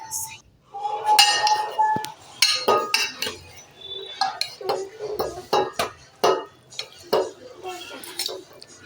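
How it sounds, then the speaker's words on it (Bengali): A spiced mixture with cumin powder stirred in a bowl: close, irregular clinks and scrapes of a utensil against the bowl, a quick series of sharp knocks, with a voice briefly audible near the start. "দিয়ে দেওয়ার পর আমি এগুলোকে সবগুলোকে নেড়ে ঘেটে নেব ভালো করে।"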